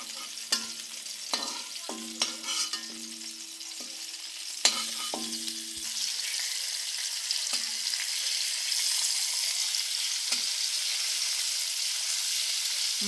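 Fish lightly frying in oil gives a steady hiss and crackle that grows more even after a few knocks and clinks of a utensil against the pan early on, close and continuous.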